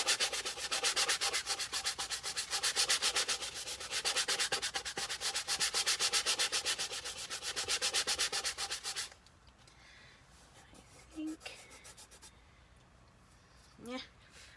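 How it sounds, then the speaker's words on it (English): A sanding block from a dollar store rubs back and forth over a stencil to strip off glitter, a steady rasping scrape in close rhythmic strokes for about nine seconds, then stopping, followed by faint handling. "I'm just going to take my sanding block that I got at the Dollar Tree, and I'm just going to sand over this"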